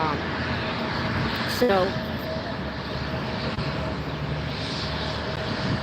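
A plane takes off at LAX airport, its roar a steady, distant wash that fills the background while someone talks briefly over it.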